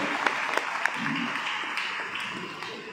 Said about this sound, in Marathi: त्यांचे एकदा जोरदार टाळ्या वाजवून आपण अभिनंदन करूया